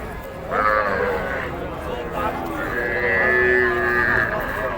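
Small young calves at a busy cattle market give drawn-out bleating moos close by, a couple of long calls set against general crowd chatter and voices.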